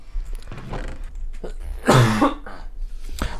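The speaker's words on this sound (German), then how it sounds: "Mann, es tut mir leid, dass ich die ganze Zeit husten muss." A single sharp, loud cough bursts out near the middle, with quieter throat noises and breathing around it, close to the microphone.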